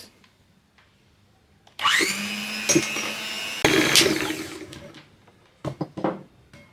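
An electric mixer whisks egg yolks with icing sugar for French sablé Christmas cookies, whirring up loudly in two close bursts after a quiet start, then dropping away to a few clattering knocks.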